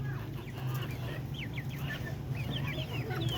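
Free-range Darag native chickens clucking and calling outdoors, several short chirpy notes repeated over a low steady background hum, fairly faint and without talk.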